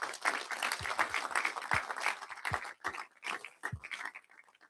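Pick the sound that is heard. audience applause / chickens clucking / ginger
audience applause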